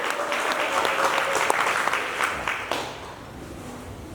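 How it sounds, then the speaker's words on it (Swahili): A church congregation applauds a sermon, a dense steady burst of clapping filling the room that thins and fades toward the end; no distinct ululation stands out. "Patia Bwana makofi na vigelegele."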